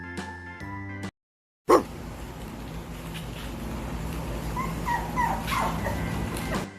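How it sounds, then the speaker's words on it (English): A dog yips and whimpers in short, high bursts, close by, over a steady busy background with no talking. "D for dog."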